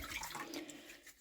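Bleach water pours and splashes onto a wooden shelf during paint removal, a steady close wet rush lasting about a second with no talking.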